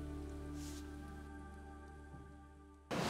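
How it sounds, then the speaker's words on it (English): A small forest waterfall gives a steady, broad rush of falling water that stays even and fairly close throughout, with a low hum underneath and a brief louder burst at the very end. "If you can hear me above the small waterfall that I've just photographed"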